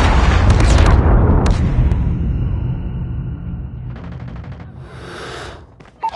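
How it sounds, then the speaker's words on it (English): Explosions from a Predator missile strike in the mobile shooter Call of Duty Mobile: a loud, heavy opening blast with sharp cracks, then a long rumbling decay and a few further bursts, all without talk. "Predator missile inbound."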